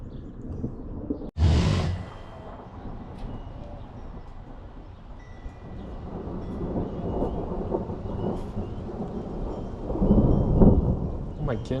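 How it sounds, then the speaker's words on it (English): Loud thunder cracks sharply near the start, then rolls on as a long, low rumble of a thunderstorm, swelling again toward the end, with no talk over it. "Oh, there's thunder."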